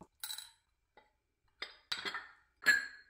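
A large glass canister from Walmart is handled, giving a few sharp, scattered clinks and taps of glass. The sounds are close but fairly quiet, with silence between them.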